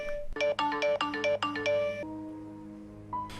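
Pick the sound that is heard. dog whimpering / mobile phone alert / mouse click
mobile phone alert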